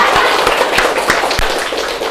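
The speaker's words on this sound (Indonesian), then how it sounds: "Tepuk tangan dong." Students in a classroom clapping their hands, loud close claps over a rustling clatter of many hands, with several sharp individual claps standing out irregularly across the clip.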